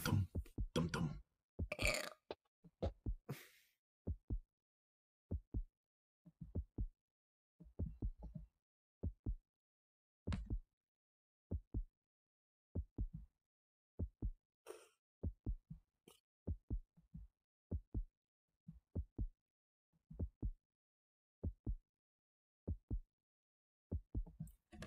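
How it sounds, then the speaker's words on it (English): Close, amplified heartbeat made of paired low thumps repeating at a steady, regular pace for the whole stretch, with a few louder, messier bursts at the start. "that's just the heartbeat."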